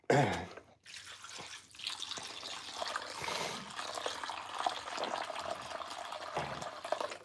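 Water trickles and drips continuously during a gold prospecting clean-up, a close, steady small flow with faint splashes and no talking.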